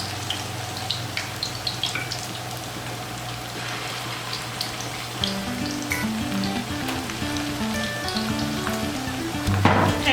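Plantain slices frying in hot oil on a stovetop, a dense continuous sizzle close by with occasional crackles and a brief clatter near the end, no one speaking.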